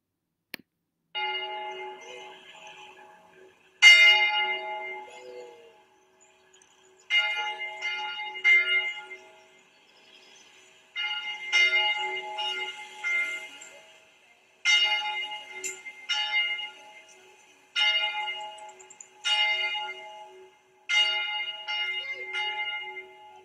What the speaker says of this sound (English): We begin this service by listening to our church bell.